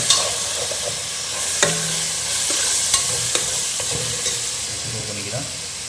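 Tomato fries in the oil of a beef biriyani and is stirred, giving a loud, close sizzle broken by repeated scraping and clinking knocks.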